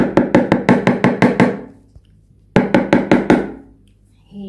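Two bursts of rapid, hollow knocking on a UV vacuum cleaner's dust container, about eight sharp raps then a pause and six more, loud and close, with no talking.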